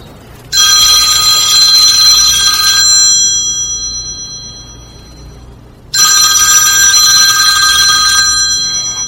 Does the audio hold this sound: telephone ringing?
yes